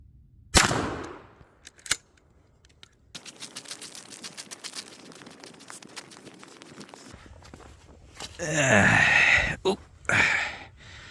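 A Remington 870 Express .410 shotgun firing 2.5-inch 7.5 birdshot shells outdoors at 20 yards, with one sharp loud blast followed by a smaller report and movement noise, and talk and handling sounds afterward.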